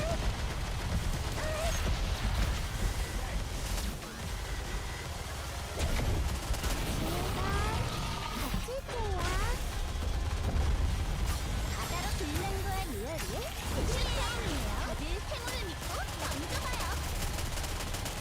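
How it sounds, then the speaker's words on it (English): Missiles from a boss pound a squad in the game Nikke, a dense barrage of blasts and gunfire rumbling continuously, with a voice talking over the chaotic battle noise throughout. "Oh no, the missiles are wrecking us now."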